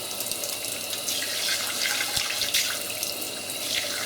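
Tap water running and splashing while matting powder is washed off a baked silicone baby doll, a continuous close hiss with small shifting splashes.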